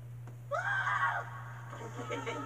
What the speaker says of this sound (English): is the part where you run away screaming